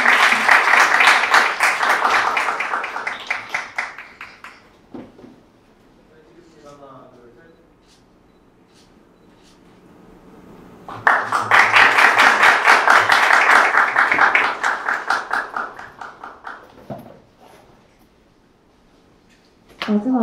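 Applause at a Korea University 2020 startup award ceremony: two bursts of many people clapping, each several seconds long and fading out, separated by a quieter stretch with a voice speaking.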